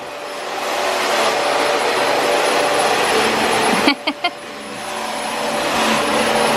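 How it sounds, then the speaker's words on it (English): A household vacuum cleaner drones on at home, a loud steady motor roar near the mic, interrupted midway by a couple of quick bumps or clicks before the hum carries on. "That's the vacuum."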